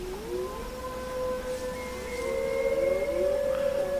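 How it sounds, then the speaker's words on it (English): Wolves howl in the video game Assassin's Creed Odyssey: several long, gliding tonal cries overlap and rise and fall at moderate volume over a low ambient bed, with no talking. "I heard howling wolves somewhere."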